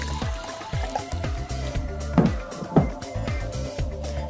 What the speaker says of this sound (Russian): Сначала нужно налить в кашпо воду.